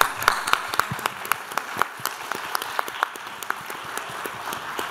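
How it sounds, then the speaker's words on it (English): Audience applause for the panelists at a W. Montague Cobb symposium, a steady wash of many hands clapping with sharp individual claps standing out, moderately loud and sustained throughout. "So let's give our panelists a round of applause."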